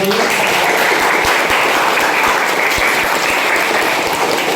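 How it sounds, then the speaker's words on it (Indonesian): A classroom of students applauds during a lesson, steady dense clapping filling the room for several seconds, loud and continuous with no talk over it. "Kita beri aplaus untuk"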